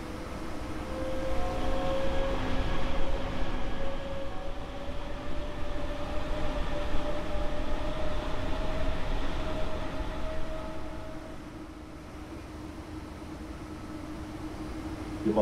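Rumble of an S-Bahn commuter train in Train Sim World 4, stopped at München-Pasing in thick fog and snow; a steady low rail drone with a faint tonal hum holds throughout, easing slightly near the end, with no voices.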